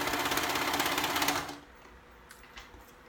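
A serger stitches fabric for a back-to-school dress in a fast, loud whirring run of about a second and a half, then stops abruptly, leaving faint handling clicks.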